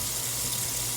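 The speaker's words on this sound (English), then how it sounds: "I typically will run the water" Lukewarm water runs from a tap into a sink, making a steady close hiss and splash that holds unchanged throughout with no talking.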